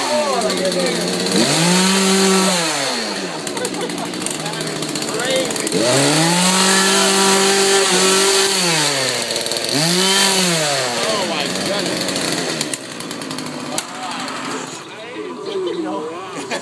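A chainsaw revs loudly in a haunted house, its engine pitch rising and falling in repeated long surges, close and harsh, with a faint background hum between revs.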